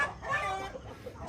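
Free-range chickens cluck softly in a muddy rainy-season range, a brief close burst of murmuring clucks with no talk.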